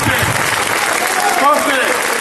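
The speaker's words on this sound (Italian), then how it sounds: "vorrei un applauso per ricordarlo" Ultras supporters at a fan festival applauding in tribute, a dense continuous wash of clapping and crowd noise with voices rising through it.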